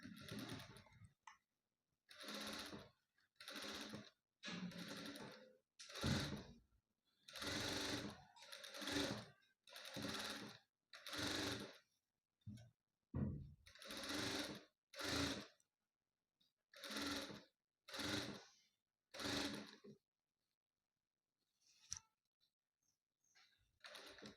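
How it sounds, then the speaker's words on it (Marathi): Sewing machine stitching a piping strip onto a blouse, running in about a dozen short bursts separated by brief pauses, close and clear with no talk. "इथं ठेवून आपल्याला ही पट्टी पूर्ण ब्लाऊजला शिवून घ्यायची आहे"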